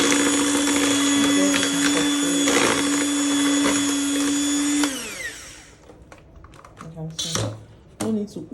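An electric hand mixer beats eggs into fruit cake batter with a loud, steady high whine and rattling hum for several seconds, then winds down and stops, leaving a few clinks and faint handling noises.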